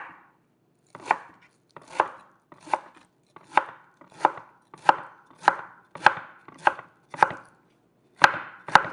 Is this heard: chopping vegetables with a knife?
yes